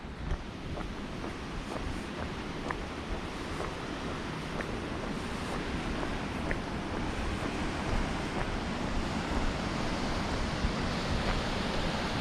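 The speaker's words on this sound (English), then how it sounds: "This is Sable River." Sable River on Vancouver Island rushes in a steady, broadband wash of flowing water, close and continuous with no pauses, faintly mixed with wind noise and no voices.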